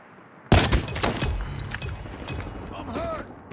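Sniper rifle fire in a Search and Destroy video game match, one sharp loud shot followed by decaying rumble and echo, with faint game effects and radio chatter after.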